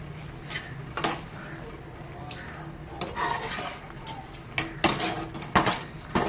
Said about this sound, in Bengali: এই আমি আচারের ঢাকনাটা খুলবো।